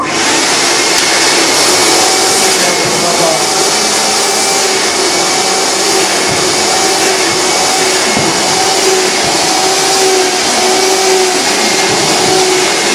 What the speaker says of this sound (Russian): проходимся с паром